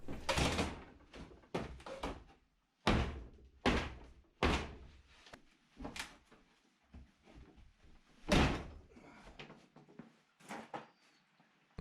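An old wooden storage shed door is worked loose and removed, giving a series of loud, irregular knocks, thuds and bangs spaced a second or so apart, with scraping and rattling between them and no talk.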